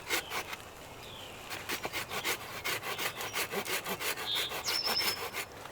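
A hand saw cuts a straight kerf into wood in steady back-and-forth strokes that build into an even rasping rhythm. The sound is close and clear with no talking.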